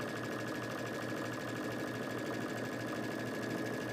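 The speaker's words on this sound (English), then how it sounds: "we're going to stitch that with a 1/4 inch seam" A sewing machine fitted with a quarter-inch piecing foot stitches a quilt seam, a steady, fast, even mechanical whir that runs continuously at moderate volume with no talking.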